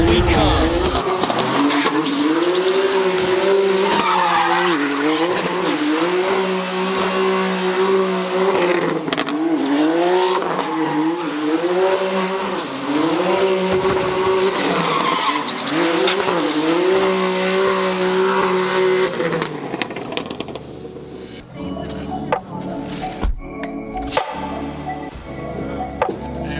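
A car drifts around the burnyard at Hoonigan headquarters, its engine revving hard in rising and falling waves with tires squealing, loud and close for most of the stretch before fading to scattered knocks and quieter noise.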